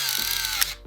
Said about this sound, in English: the sound of the shutter on this camera is next level